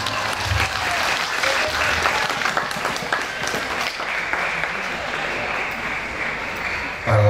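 An audience in a mosque gathering for an Isra' Mi'raj commemoration applauds, with loud, sustained, dense clapping that continues evenly for several seconds and a few voices mixed into the crowd noise.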